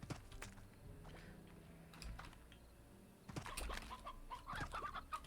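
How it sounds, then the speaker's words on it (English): Chicken squawks and clucks from the video game Slime Rancher, a cluster of sharp, agitated cries rising in the second half over faint game noise, fairly close and moderately loud. "every other second you're hearing, like, the cries of a chicken about to die"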